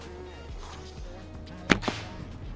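An arrow shot in target archery, a quick whip-like release followed by a second smaller snap, over a steady low hum with no speech.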